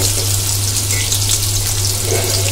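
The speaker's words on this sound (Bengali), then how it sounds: "আর টমেটো কুচি সব একসঙ্গে দিয়ে ভালো করে তেলে ভেজে নেব এগুলো আমরা" Drumstick stalks and potatoes fry in hot oil with a steady, dense sizzle and crackle, close and continuous, with a low hum underneath.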